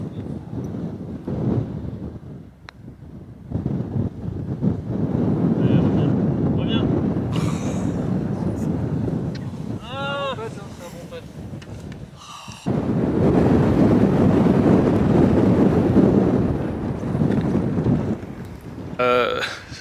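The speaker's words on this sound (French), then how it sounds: "Il y a un peu de vent là." Wind gusts roar across a high point of a golf course at the 9th tee during a pro-am, loud and steady with buffeting on the microphone, while people talk over it.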